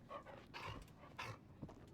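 A dog or wolf in the video game Until Dawn pants and snuffles close by in short, quiet breathy bursts with a faint whimper, heard alone at low level.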